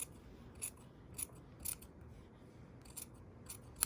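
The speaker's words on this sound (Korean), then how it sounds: "그 다음에 위에 시접만 다시 다트 폭만큼으로 좁혀서 잘라주세요." Scissors snip through the seam allowance of a bespoke English-style jacket dart, several short crisp cuts spaced irregularly, close and quiet, with no talk.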